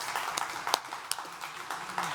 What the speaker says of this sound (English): give a huge South Summit round of applause for Ryan Nance.